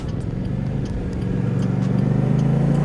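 A Kymco CV3 three-wheeled scooter pulls away and accelerates, its engine note holding a steady, close drone that rises slightly in pitch and strength, with no talk over it.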